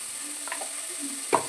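Turmeric frying with tomato in a pan, a soft steady sizzle with a few light stirring scrapes and one brief louder clatter near the end.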